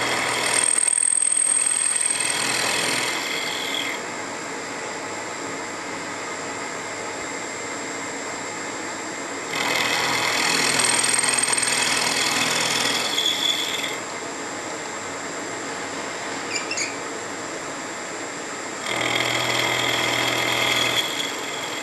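A milling machine makes shallow climb-direction finishing passes, no more than ten thousandths deep. A loud, steady, rushing cutting whine comes in three separate bursts with a quieter running hum between them, close and with no voices.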